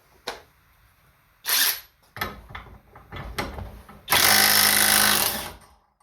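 Alloyman 20V brushless 1/2-inch impact wrench removing a nut: short bursts of rapid hammering, with a brief blast early on and a longer, louder burst near the end, separated by clunks and handling noise.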